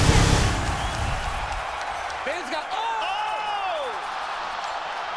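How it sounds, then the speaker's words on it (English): Arena crowd in a UFC video game fight roaring loudly, a dense steady wash of cheering that fades slightly, with commentary voices running over it. "Listen to this crowd."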